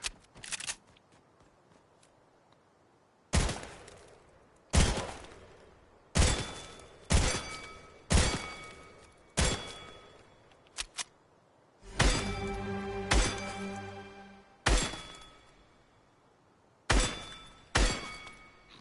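Gunfire in Fortnite's skeet shooting range, a string of sharp, loud single shots cracking at irregular intervals, some followed by brief shattering of the targets, with a denser burst of rapid shots midway and no talking.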